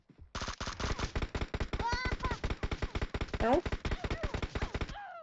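Rapid automatic gunfire from PUBG Mobile rattles in dense, evenly spaced bursts nearly nonstop for about five seconds, loud and close, with a brief voice exclaiming over it.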